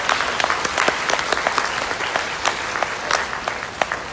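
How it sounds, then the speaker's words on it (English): Warm applause from a concert audience at a choir pops concert fills the space as a dense, sustained patter of many clapping hands, close and loud throughout. "would you give our administration a nice warm round of applause?"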